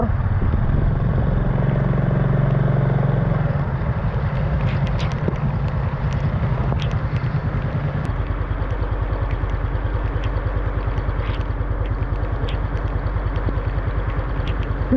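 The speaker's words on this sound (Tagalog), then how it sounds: "Kaya nagdala na lang ako ng motor." A motorcycle engine runs close by, first with a smooth, steady idle and then settling into a pronounced rhythmic chugging pulse that continues evenly to the end without any voices.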